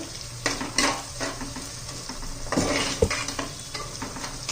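Onion sautés in a pan with a close, steady sizzle, while a spoon stirs and scrapes against the metal in irregular bursts and gives a few sharp knocks.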